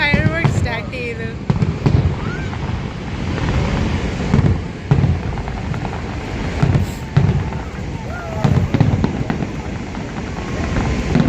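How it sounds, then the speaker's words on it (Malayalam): Fireworks bursting over Niagara Falls in Canada, a series of loud booms and crackles repeating every second or two against a steady roar of wind and rushing water, with people talking in the background. "സ്റ്റാർട്ട് ചെയ്തു ഫയർ വർക്ക് സ്റ്റാർട്ട് ചെയ്തു."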